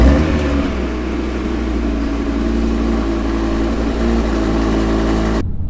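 An Audi TT RS 2.5-litre five-cylinder turbo engine runs loud and steady with a deep idling rumble, close by, then cuts off abruptly at the end.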